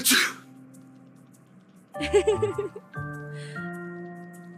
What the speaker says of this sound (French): Tu éternues comme le bouc.